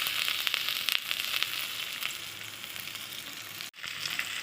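Ginger paste, chopped tomato and slit green chillies frying in a pan for a rohu fish and taro curry, giving a steady, close sizzle with soft crackles and a brief stir near the end.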